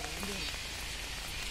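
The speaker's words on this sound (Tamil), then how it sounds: "காத்தோட கனமழை." Heavy rain with wind in Kerala's Idukki district, a steady broadband wash of falling water that fills the whole clip at a constant level, with faint voices briefly audible underneath.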